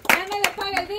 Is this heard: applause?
yes